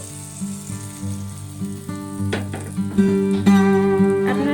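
A ladle of patishapta pitha batter, made with milk, sizzles in a hot pan that is swirled to spread it. The soft, continuous frying hiss sits under steady tonal background music and grows a little louder toward the end.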